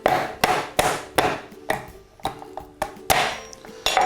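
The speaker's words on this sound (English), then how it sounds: "what I like to do is break the shell open" Crab shell being cracked open with the back of a knife handle, a series of about nine sharp, close knocks and cracks in an uneven rhythm, with brittle crunching between the strikes and no talk.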